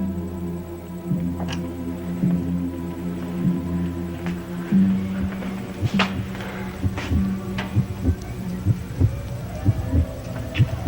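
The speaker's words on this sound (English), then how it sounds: "The heartbeat. The heartbeat." In a gothic soap opera, a low hum gives way to a heartbeat effect: a run of dull, evenly spaced thumps that grows more prominent, close and resonant, with music-like tones beneath.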